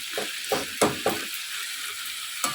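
Mutton and ginger frying in a pan for kosha mangsho give a steady close sizzle, broken by a few sharp scrapes and knocks as the meat is stirred.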